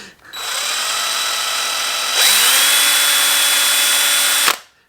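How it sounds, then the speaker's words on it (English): A handheld drill fitted with a 1/8 inch end mill cuts into a PVC motor control box, giving a close, loud, steady whine that rises in pitch as it bites in and then stops abruptly after a few seconds. "But I happen to have a 1/8 inch diameter end mill"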